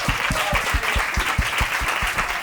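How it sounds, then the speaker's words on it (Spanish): Audience applause, a dense round of clapping from a crowd over regular low thumps, sustained at an even level throughout. "Un aplauso para él"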